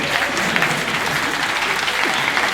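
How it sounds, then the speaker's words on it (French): A live comedy audience breaks into sustained applause, a dense wash of clapping that stays even and loud throughout. "là, les gens applaudissent"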